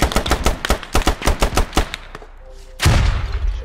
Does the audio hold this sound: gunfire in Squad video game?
yes